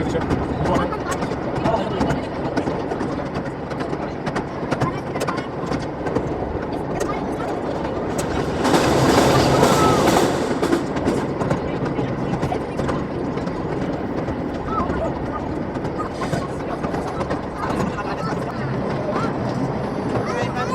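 A theme park train ride at Lightwater Valley Family Adventure Park rolls on steadily past bushes and empty fields, its continuous rumble swelling briefly midway, with a person talking over it throughout.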